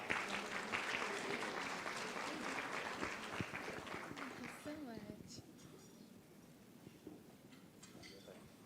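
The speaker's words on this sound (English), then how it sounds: "Let's give her a round of applause." Audience applause for a poet at a brand awards launch event, steady clapping at first that fades after a few seconds as a voice begins speaking over the quieter room.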